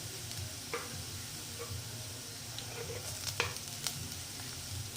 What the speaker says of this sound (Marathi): ती सुद्धा परतून घेऊया आणि तिला तेलामध्ये थोडं शिजू देऊया